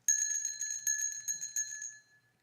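A small bell in a Sherlock Holmes radio drama rings in several quick, bright bursts, each followed by a brief shimmering decay, clear and alone with no talk.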